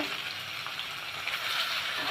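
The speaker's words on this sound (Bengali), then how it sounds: "ভালো করে ভেজে নিব সবগুলো মাছ দিয়ে দিলাম" Oil sizzles and crackles steadily with a continuous hissing fry as olive barb fish fry in a pan, close and even throughout.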